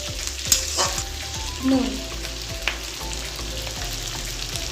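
Onion and capsicum sizzle in a pan for restaurant-style chilli chicken gravy, with a steady frying hiss, sharp clicks and scrapes of a spatula stirring, and one brief spoken word.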